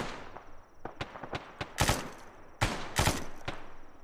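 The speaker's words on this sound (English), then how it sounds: "We're engaging enemies with machine gun fire." Machine gun fire in a Soviet mission on Hill 185, sharp separate shots and short bursts cracking loudly against a quiet background, some rounds rapid and clustered, others spaced apart.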